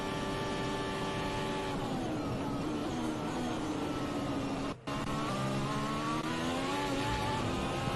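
A Formula 1 car in the F1 2021 video game at the Dutch Grand Prix practice accelerates out of a corner, its high-pitched engine whine climbing and dropping through quick successive upshifts, loud and continuous.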